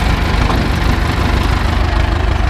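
Ursus C-360 tractor engine running steadily while leveling a field after ploughing, a loud, continuous low rumble with a rough knocking pulse and no speech over it.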